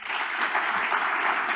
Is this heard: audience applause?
yes